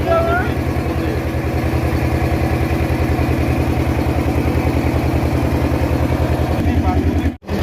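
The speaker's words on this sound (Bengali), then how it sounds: "আমাদের নৌকা ছেড়ে দিয়েছে" A country motorboat's engine pulls away on a Sundarbans river trip from Jaynagar, a steady, close, throbbing mid-low rumble that holds unbroken throughout before cutting off abruptly near the end.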